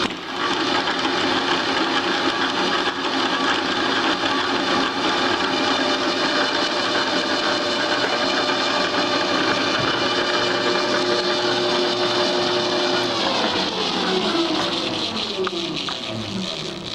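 Hobart 140 quart mixer running, a loud steady mechanical whir and clatter that holds constant, then shifts pitch near the end as the speed changes.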